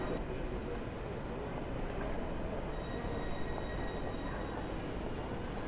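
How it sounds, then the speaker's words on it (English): An SBB train pulls into platform 7 of a Swiss station, a steady loud rumble of wheels and rolling stock held throughout, with faint high squeals and hiss over it. "And here comes our train."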